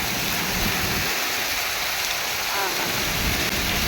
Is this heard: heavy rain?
yes